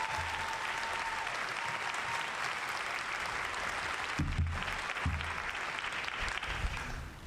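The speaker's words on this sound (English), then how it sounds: "Let's give our band a round of applause." An audience at a Fort Benning infantry graduation ceremony applauds the military band, a sustained wash of clapping heard from a distance with no break.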